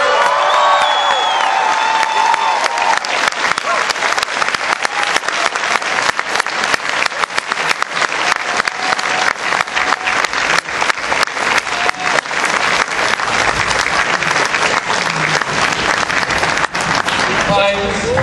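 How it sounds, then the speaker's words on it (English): A big crowd at a comic convention panel applauds loudly and continuously, with scattered cheers and whoops rising through the dense clapping. "please give another big round of applause"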